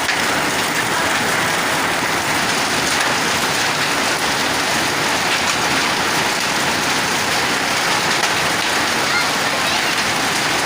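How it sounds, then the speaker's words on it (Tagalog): Heavy rain mixed with hail pounds on a roof in a loud, dense, continuous clatter that stays unbroken throughout. "Yan po ang ulan na may kasamang yelo."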